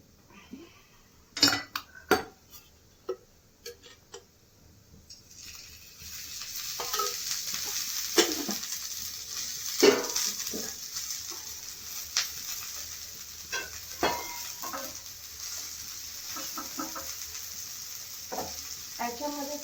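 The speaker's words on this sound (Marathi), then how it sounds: "तर थोडे हलके तेल टाकून याला भाजून घेऊया." Ingredients roasting in a little oil in a pan for chole bhature, with a steady sizzle building after a few seconds and scattered scrapes and clinks of stirring, close and moderately loud, no talk.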